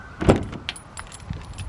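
A Subaru Crosstrek being unlocked and its door opened: a sharp latch clunk, then light clicks and rustles, close up and with no one talking.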